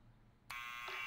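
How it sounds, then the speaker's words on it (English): A harsh electronic door buzzer in the Back to the Future video game sounds abruptly after brief quiet and holds as one loud continuous tone to the end. "Let's go use the buzzer."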